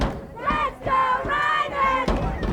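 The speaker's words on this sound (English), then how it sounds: "So 2nd and 9 upcoming for Ryneck as the crowd here gets into it again" High school football crowd at a Tuckahoe at Rye Neck game cheering and chanting in loud rising swells, with rhythmic shouted voices and brief pauses between bursts.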